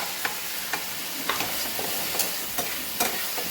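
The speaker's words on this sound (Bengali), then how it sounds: "আর একটু লাল করে ভাজা হোক চিংড়ি মাছটা" Prawns fry in a pan at home with an even, moderate sizzle, punctuated by sharp scraping and stirring taps every half second or so.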